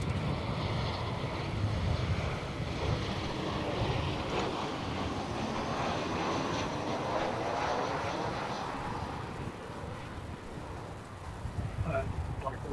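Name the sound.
airliner landing at Adelaide Airport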